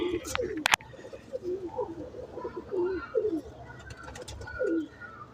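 Pigeons at a breeder's loft in Sialkot coo repeatedly in soft, rolling phrases over steady background noise, with a brief sharp knock near the start.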